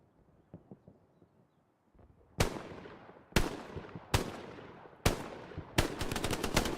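Machine gun fire in Hell Let Loose, starting with faint distant pops, then loud close bursts that crack sharply and ring out in a long echoing tail, ending in a rapid string of shots.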